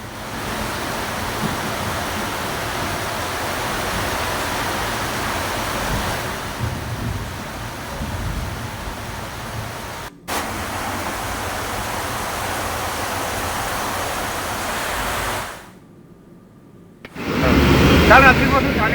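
Heavy monsoon rain pouring over Thane city, a dense continuous roar of broadband noise that briefly drops out and then swells louder near the end.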